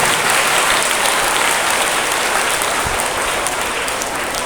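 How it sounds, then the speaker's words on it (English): Loud, sustained applause from an audience at a school academic program, honoring student performers; dense clapping fills the whole stretch evenly with no talk over it. "Let's give our students, our performers, a big round of applause and thank them."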